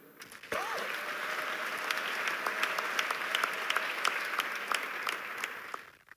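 A church congregation claps and applauds together in steady, dense applause that carries for several seconds, the sound of many hands in a large room, with a sustained sung or hummed tone running beneath and the clapping fading out at the end.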